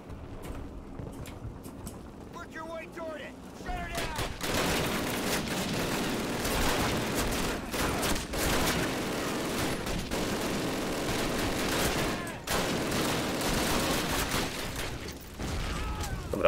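Call of Duty gunfire erupts after a quieter start into sustained rattling bursts and shots with booms mixed in, loud and dense for most of the stretch, with no talk.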